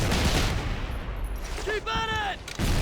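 In Medal of Honor: Heroes, grenades thrown at a group of enemies during the Operation Market Garden mission burst in dense, continuous explosions mixed with gunfire, and a brief shouted voice cuts through near the end.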